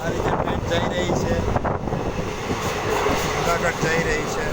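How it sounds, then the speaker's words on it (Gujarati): Train heading toward Junagadh past mango orchards and village greenery, a continuous rolling rumble heard with heavy wind buffeting the microphone, loud and constant throughout. "આ રીતે ટ્રેન જઈ રહી છે,"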